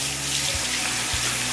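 Hot water runs steadily from a tap into a sink as part of a face-washing routine, a constant close rushing stream with no talking.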